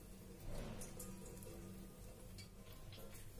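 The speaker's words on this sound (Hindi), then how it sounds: "ये देखिए पानी गिर रहा है।" Whey water trickles and drips from yogurt pressed in a cloth while making shrikhand, a soft, steady faucet-like patter of falling liquid with no talk, fairly quiet throughout.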